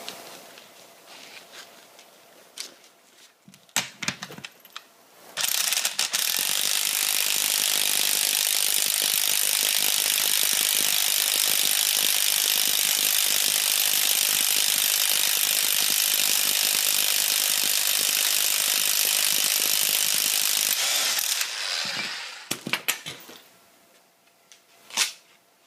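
Ratchet wrench working a 21 mm nut on the steering of a 2003 Ford Super Duty F350 4x4, a loud, steady rapid clicking of the pawl lasting about fifteen seconds, with scattered handling clicks before and after.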